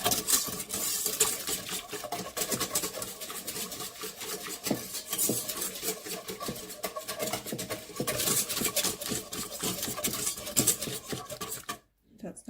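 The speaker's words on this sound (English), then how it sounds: "And I'm going to mix that together. Try and get out all the lumps of flour." Spoon scraping and clinking against a bowl as flour is stirred into warm water for flatbread dough, a steady close-up rhythm of stirring strokes with no talking.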